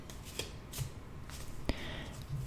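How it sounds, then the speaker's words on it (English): A Heindel tarot deck is shuffled by hand in a quiet room, soft close-up riffling and card slaps in a few short bursts. "we're going to shuffle the cards a little bit"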